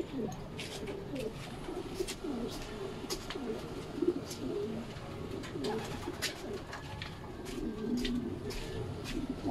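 Racing pigeons being conditioned for a derby race coo softly and repeatedly in a loft, low rolling calls overlapping with small rustles and occasional faint chirps, moderately close and fairly quiet.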